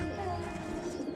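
An Allahabadi pigeon gives a brief, soft, low cooing call nearby, over faint background noise.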